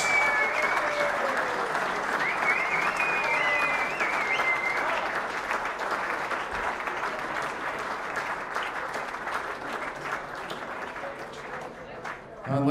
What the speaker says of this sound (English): Ladies and gentlemen, a round of applause for your runner-up, Martin Phillips!